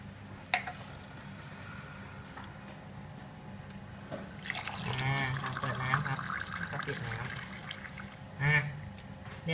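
Water pours from the tap of a phone-controlled electric kettle, giving a faint, steady trickle and splash in the middle. Voices talk nearby over it.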